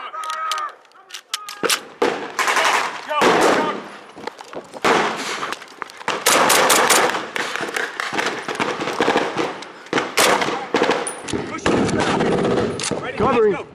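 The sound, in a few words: gunfire during WWII reenactment battle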